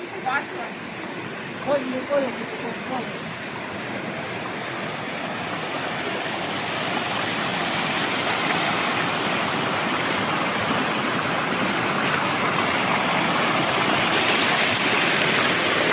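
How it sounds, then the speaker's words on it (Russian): Steady rushing of an icy, fresh meltwater stream beside a bathhouse, near and continuous and growing fuller over time, with a few brief voices early on. "А это талые воды."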